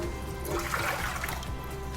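Warm water pours steadily for honey bread dough, a continuous close splashing trickle into a bowl for the whole stretch, with no talking.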